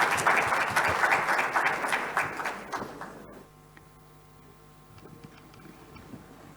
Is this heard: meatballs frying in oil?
no